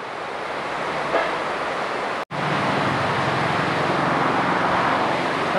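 Heavy rain pours down on a rainy day, a loud, dense, steady roar of falling water that cuts out for an instant midway and then resumes.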